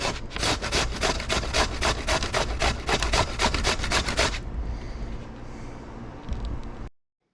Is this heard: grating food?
yes